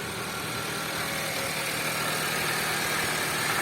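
A car's 1.8-liter inline-four engine idles steadily and close, a continuous even hum with a fine rapid pulse and no other sounds.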